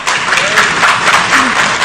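Loud, close applause from members of a legislative assembly as committee chairs are named, a dense continuous clatter of many hands with some voices mixed in.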